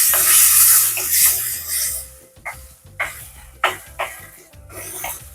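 Green chilies drop into a hot pan with a loud burst of sizzling at the start. It settles into quieter frying with several distinct scraping stirs of a spoon against the pan, and faint music plays underneath.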